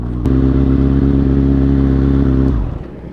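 Off-road motorcycle engine rumbling steadily at about 25-30 km/h over a badly broken road, loud and close, easing off near the end.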